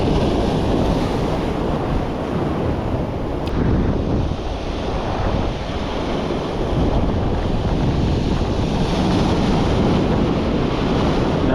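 Ocean surf rolls in against a beach jetty at Tamarack Beach, a loud, continuous wash of breaking waves mixed with heavy wind buffeting the microphone, with no voices.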